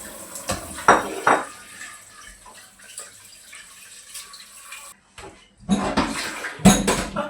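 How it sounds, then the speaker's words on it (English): Pork ribs being washed and rinsed in water, with splashing and handling that rises and falls in bursts, with clattering of a pot or bowl, and a short pause near the end before louder sloshing returns. "So I'm gonna rinse it and wash it again and again."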